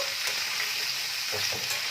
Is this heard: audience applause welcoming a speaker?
no